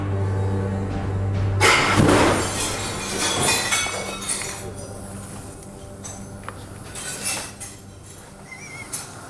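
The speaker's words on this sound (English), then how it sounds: "The frozen chicken hasn't just cracked a couple of panes. It's blasted a hole right through the glass." Frozen chicken fired from a cannon smashing through several glass panes, a loud burst of shattering glass followed by scattered clinks and tinkling debris settling, heard up close.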